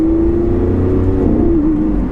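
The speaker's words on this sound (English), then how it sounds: "you get to hear the V12, and there is no sound like a Lamborghini V12" A modified Lamborghini Aventador's V12 engine revs loud and close, a steady throaty exhaust tone that holds, dips slightly and rises again without any talk.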